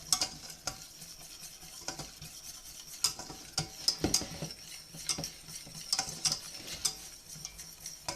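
A utensil stirs flour into melted butter in a pan for lasagne, with quiet scraping and repeated sharp metallic clicks and taps against the pan over a faint sizzle, close and fairly soft.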